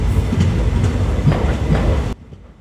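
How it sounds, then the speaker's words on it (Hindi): A train pulling into Nainpur Junction, loud steady wheel rumble and rhythmic clickety-clack close by, cutting off abruptly near the end. "नैनपुर जंक्शन में ट्रेन अराइव हो रही है"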